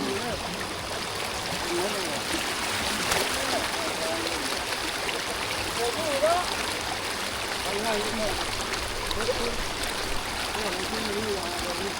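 Water released into a rice field pours and trickles steadily in a constant rushing flow, with faint voices occasionally audible beneath it.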